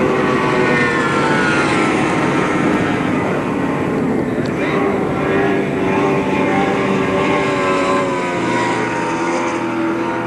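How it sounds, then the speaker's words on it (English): Powerful race boat engines roar continuously at the Parker Enduro in 1975, a steady loud drone with shifting harmonic tones as boats run the backstretch and buoy turn, with a faint voice under the noise. "Shearer and Potter down the backstretch, and mixing it up a little in the one buoy turn"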